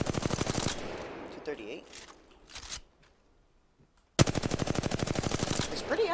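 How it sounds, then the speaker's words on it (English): Automatic gun hip-fired in a video game: a loud rapid burst, then a pause with scattered clicks and a short spoken comment, followed by a second sustained burst of fast regular shots to the end. "Let's see if I can get that with hip firing."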